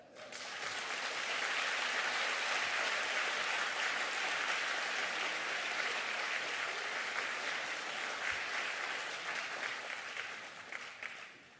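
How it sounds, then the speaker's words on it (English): A large audience gives Professor Edward Chen a warm round of applause, a dense, sustained roar of clapping that holds steady for several seconds before tapering off at the end. "So please join me in giving a warm round of applause to the forever young Professor Edward Chen."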